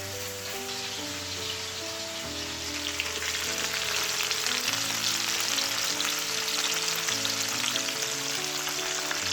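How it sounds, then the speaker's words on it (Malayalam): Fish fries in a hot pan with a steady, dense sizzle and spattering crackle that holds for several seconds, heard close over a low background hum, with no one talking. "ഈ പാനിനകത്ത് നമുക്ക് മീൻ വറുത്തെടുക്കാം കേട്ടോ."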